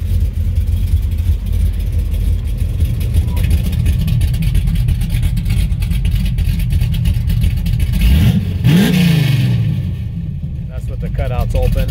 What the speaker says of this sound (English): Cutouts open, and as the exhaust ran all the way out the back.